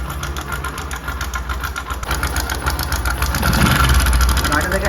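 A Bajaj Discover 100 motorcycle engine with a noisy timing chain idles close by, a steady mechanical rattle and clatter running throughout, growing slightly louder near the end.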